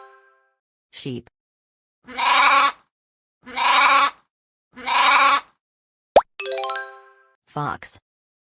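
After a short pop, three even, close sheep bleats follow in steady succession, then a springy boing and a few quick cartoon-like chirps.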